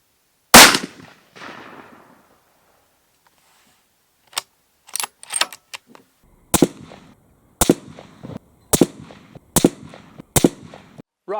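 A Steyr Arms Scout II rifle in .223 fires one loud, sharp report with a short decaying tail, then after a pause a series of crisp, evenly spaced cracks and clicks at roughly one-second intervals, nearby and outdoors.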